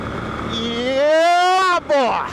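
A Moto Guzzi Griso motorcycle engine climbs in pitch as it accelerates, drops briefly as if shifting gear, then pulls again, loud and close with wind rushing past.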